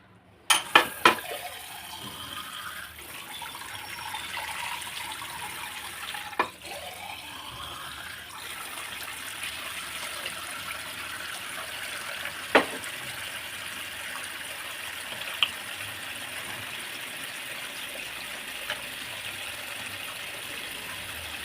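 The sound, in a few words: water poured to wash mutton trotters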